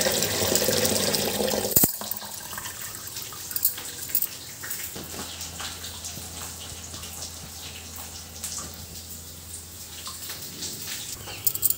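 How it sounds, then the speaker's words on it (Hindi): Water from a running tap splashes steadily while thick poha is rubbed and washed under it by hand, a close, continuous wet rush with scattered drips and small knocks, heavier in the first two seconds. "ऐसे ऐसे रगड़ के धोते हैं नल के नीचे"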